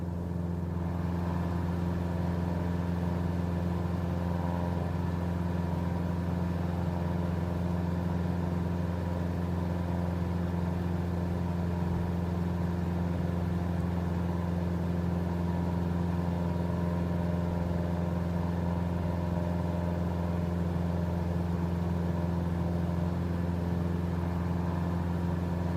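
A light aircraft engine in a flight simulator game drones steadily at cruise power, a smooth, constant, even hum with no changes in pitch or level and no voices.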